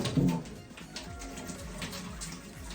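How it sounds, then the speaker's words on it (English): Cold tap water rushes steadily through an immersion wort chiller coil during home brewing of a Belgian dubbel, a continuous close hiss and splash with a brief louder gurgle at the start. "Cold water comes through here, goes around the coil, comes back out."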